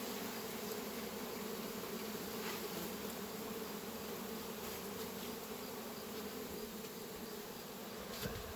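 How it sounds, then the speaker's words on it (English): A swarm of honey bees buzzes outdoors in a dense, continuous hum, steady and fairly faint, with no other sounds standing out. "Sometimes it's just amazing to see so many bees."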